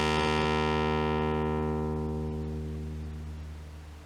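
Sawtooth wave from a modular synthesizer holding a steady buzzing tone while the filter cutoff sweeps down, growing steadily mellower and duller as it fades over a few seconds, with no talking.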